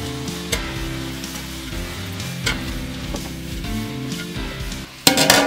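About 1.5 kilograms of finely chopped onions frying in a large pan for Bakrid ghee rice for fifty people, a steady sizzle under a few stirring scrapes and a sharp metallic clatter at the end.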